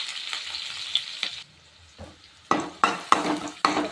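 Mustard seeds and cumin crackle and sizzle in hot oil, then onion goes in with a faint rush and several sharp scraping knocks of a spoon against a pan, close and fairly quiet.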